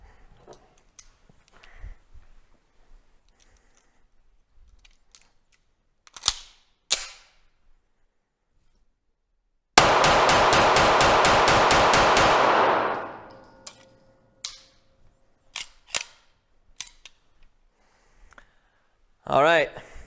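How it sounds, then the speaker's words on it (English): A rapid string of pistol shots from a CZ TS 2 competition handgun, about a dozen evenly spaced cracks fired in quick succession at close range, preceded and followed by a few scattered clicks and handling sounds. "the gun is actually already flipping much less into the recoil, giving me the possibility to shoot slightly faster"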